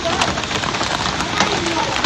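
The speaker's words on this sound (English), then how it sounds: "posted a video of the large hail pellets raining down in her front yard, blanketing the grass and street" Large hail pellets falling on a front yard, grass and street during a storm in San Antonio, Texas: a dense, continuous loud patter of impacts with scattered sharper hits throughout.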